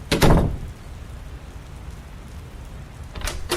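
Heavy rain pours down as a steady, dense wash. A loud rustling burst opens it and a second one closes it.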